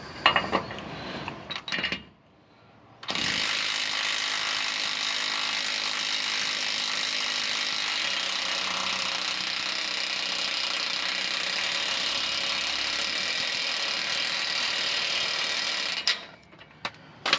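A hand ratchet works a Mitsubishi Pajero torsion bar adjuster on a 2-inch-lifted suspension, producing a few brief clicks, a pause, then a long, loud, continuous mechanical whirr that cuts off near the end.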